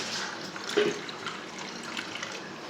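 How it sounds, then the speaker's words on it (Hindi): Water pours steadily into a raw mango drink, a soft continuous splashing trickle with a slight gurgle, fairly close and even throughout. "ये इसमें पानी ऐड कर देंगे"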